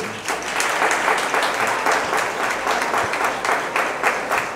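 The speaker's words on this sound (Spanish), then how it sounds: "Vamos a darle un aplauso de..." A church congregation bursts into warm applause for a parishioner's birthday during Sunday Mass, steady dense clapping throughout at moderate volume.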